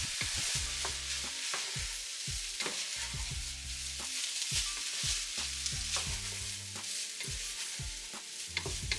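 Broccoli stir-fried in sesame oil for vegetable fried rice, with a steady close sizzle broken by repeated scraping and clanking stirs of the utensil against the pan.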